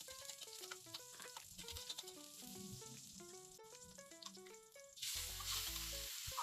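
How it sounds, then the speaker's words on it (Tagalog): Onion and garlic sautéing in hot oil in a pan, a steady close sizzle beneath background music that swells into a louder, denser frying hiss near the end. "simulan ng magisa ng sibuyas at bawang"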